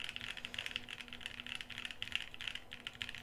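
A mechanical keyboard with Gateron N1 or Alpaca switches on an FR4 plate is typed on steadily, a fast, even stream of crisp, close clacks at moderate volume with no talking.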